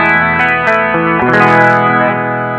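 Electric guitar played clean through a Nux MG-400 multi-effects unit with a modulation effect and no distortion, sustained shimmering notes and chords ringing out continuously at a steady level with no talk.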